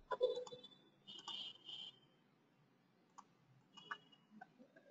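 Quiet clicks of a computer keyboard, a few short bursts of keystrokes with gaps between them, close and faint.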